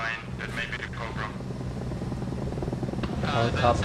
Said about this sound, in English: I hear a helicopter to the west of the mine.